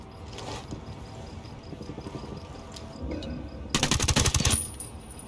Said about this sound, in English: I'm moving to position, ready to fire.